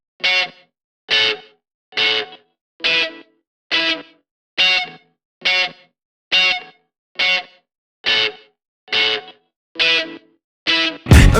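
A DI Telecaster runs through the Waves Voltage Amps plugin with the focus knob engaged, giving a tight, compressed, distorted tone. It plays a dozen evenly spaced, punchy chord stabs in a steady rhythm, loud and up close with nothing else heard.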